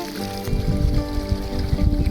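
Water pours steadily into a newly built two-level garden pond with a fountain slab, a continuous close rushing and splashing with no talk.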